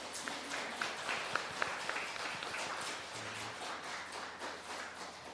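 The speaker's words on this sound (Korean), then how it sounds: "우리 옆에 있는 분들 박수로 환영하겠습니다" A church congregation claps together in steady, moderately distant applause, welcoming people at a Sunday service, that holds evenly for several seconds.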